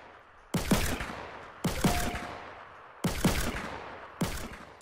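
Revolver gunshots in a video game, four sharp evenly spaced shots about a second apart, each with a short echoing tail.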